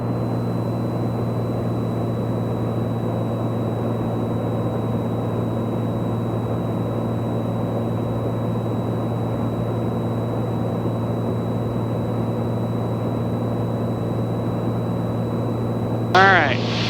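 A Piper Comanche 250 in flight, its engine droning steadily after the RPM is pulled back to 2,300. The cabin sound is a constant, even hum throughout, with talking over it and a short click near the end.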